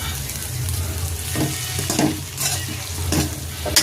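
Chicken liver sizzles in a pan while being stirred, with a constant frying hiss broken by several scraping stir strokes, close up.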